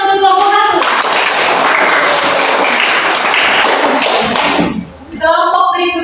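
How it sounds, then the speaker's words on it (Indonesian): A classroom of primary-school children claps for a group that just finished presenting, a dense burst of applause that builds and then stops, followed by a teacher speaking. "Tepuk tangan dulu untuk kelompok"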